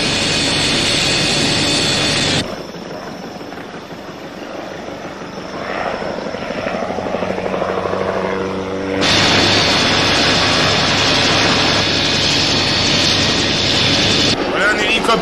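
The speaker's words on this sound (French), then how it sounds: "Voilà un hélicoptère," A helicopter flies in a French-dubbed war film, a loud continuous rotor and engine roar that drops away briefly, then returns at full, close strength, with some muffled background sounds in the quieter middle stretch.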